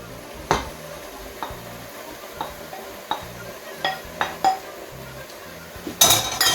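Vegetables and yellow pepper being stirred in a pan during a school food technology lesson, a quiet sizzle under a series of separate metallic clinks and scrapes, ending in a louder burst of stirring.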